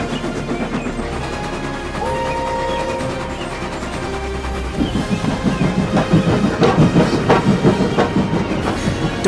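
Gordon, a steam engine, passes along a railway track, a continuous rumbling roar with rhythmic clickety-clack of wheels that grows louder and busier toward the end, no voices present.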